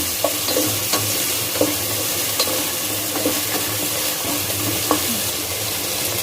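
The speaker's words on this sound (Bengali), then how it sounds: "2-3 মিনিট নেড়ে নিব।" Carrots are stirred in a pan while cooking for a chicken, egg and prawn soup. A spoon scrapes and clinks against the pan at irregular intervals over a continuous soft sizzle, close up, with no voices.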